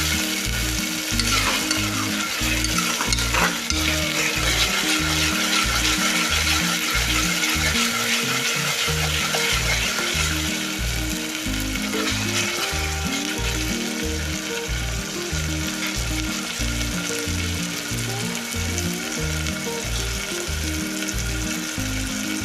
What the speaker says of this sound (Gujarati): હવે આપણે ટમેટા એડ કરીશું. તેને પણ આપણે તેલમાં ફરી કરવાનું છે